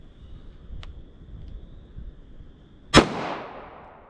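A single sharp pistol shot of .40 S&W Federal Punch rings out outdoors, a loud crack with a decaying echo, preceded by quiet background and a faint high chronograph tone.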